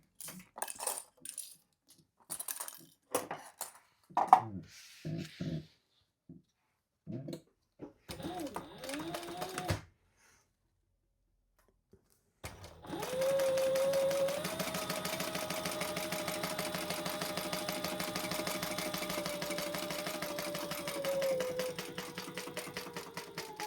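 A domestic sewing machine runs steadily for about ten seconds as it stitches a seam on a bum bag. Before that come scattered handling clicks and short bursts of stitching.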